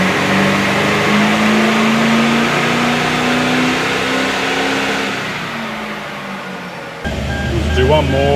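A Toyota Landcruiser 200 Series with upgraded injectors and a tune revs on a dyno, its engine note climbing steadily loud and close for about five seconds, then easing off as a voice speaks over the idle.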